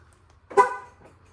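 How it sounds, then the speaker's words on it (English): A single short honk from a 2010 Nissan Frontier truck horn, tested after clock spring replacement, close and fairly loud, fading quickly into quiet. "Alright, horn works."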